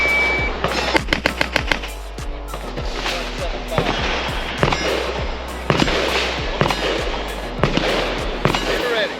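Repeated gunfire from suppressed firearms, including a machine gun, at a shooting range silencer showcase: sharp loud bursts and single shots in quick irregular series across the whole stretch, with range calls and voices in the background.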